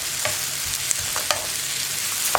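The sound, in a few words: curry leaves sizzling when added to grape chutney in pan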